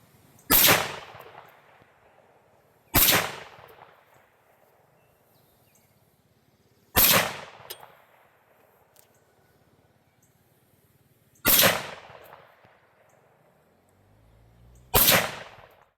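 A Fulton Armory M1 Carbine fires a five-shot group outdoors, with five loud, sharp reports spaced several seconds apart, each ringing off into quiet.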